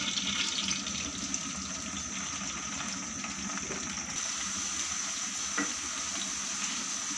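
Okra fries in hot oil over a medium flame, a steady close crackling sizzle that runs unbroken from start to finish, with no voices.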